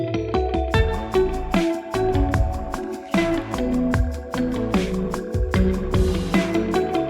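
Electric guitar run through an amp plugin with compression, echo and a fair amount of reverb, playing a series of plucked chords and notes with ringing, echoing tails, loud and alone.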